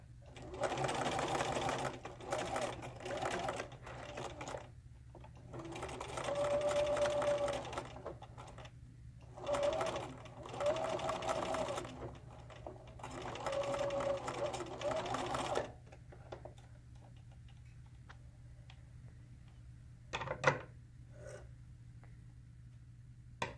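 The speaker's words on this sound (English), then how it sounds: "You want to sew pretty close to the edge of the fabric." Sewing machine stitching apron fabric close to the edge, running in several bursts of steady whirring separated by pauses, with a faint voice and small handling sounds near the end.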